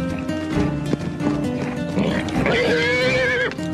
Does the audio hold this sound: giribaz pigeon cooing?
no